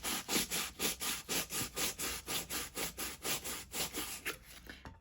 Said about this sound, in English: I take sandpaper and just go over it in a circle like this.